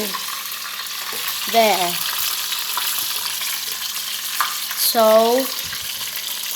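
Jollibee-style gravy stirred in a pan, with a constant sizzling bubble under brief, close spoken words and a couple of short voiced exclamations.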